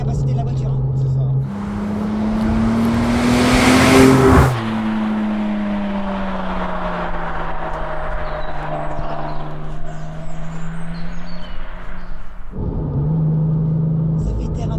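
A Porsche 996 Turbo accelerates hard from inside the cabin. Its loud engine note climbs through a long pull, drops, then rumbles steadily, before easing back near the end as people talk.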